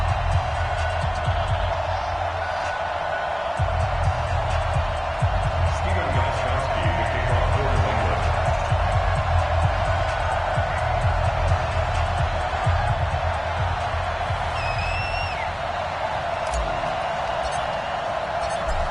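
A sold-out crowd at the Cincinnati Bengals' home football stadium roars in a steady, dense wall of cheering and murmur that stays under continuous play-by-play talk.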